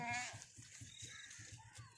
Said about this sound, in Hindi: बकरी भी आपके सामने माशाल्लाह, बच्चे भी आपके सामने।